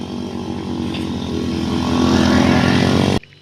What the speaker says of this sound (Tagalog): May motor madaan.